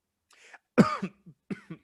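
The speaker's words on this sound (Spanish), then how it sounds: "iba a hablar y justo me entró la tos" A single person coughs a few times in quick succession, a hoarse throaty burst followed by smaller coughs, close and otherwise quiet.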